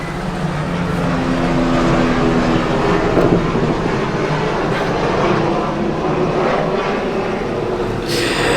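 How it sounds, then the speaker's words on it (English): A loud, steady mechanical roar of a helicopter passing overhead, holding constant with a faint wash of wind and noise throughout. "There's a helicopter passing right now"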